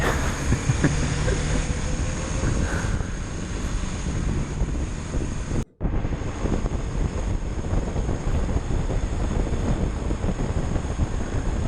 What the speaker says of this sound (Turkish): Hava aşırı soğuk, aşırı bir rüzgar var.